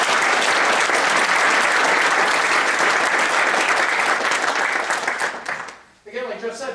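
A crowd applauds at a Cedar Point off-season presentation, loud sustained clapping that tapers off near the end before a voice begins speaking.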